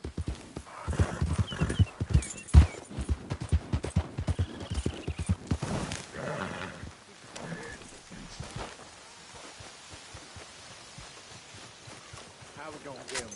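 A horse gallops in the video game Red Dead Redemption, rapid loud hoofbeats up close that slow and thin out toward the end, with a voice talking over them.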